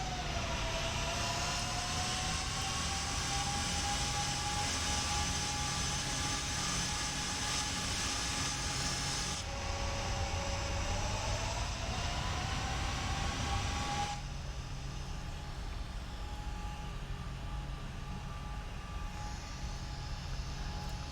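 A Boeing 747-8F freighter jet in a flight simulator drones steadily as it climbs after takeoff, a loud, constant engine roar with a whining tone that shifts in pitch and dips slightly in level partway through.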